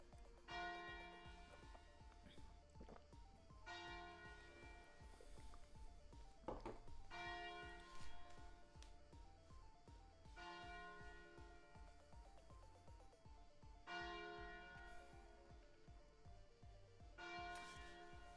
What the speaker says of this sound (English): the bell tower is ringing again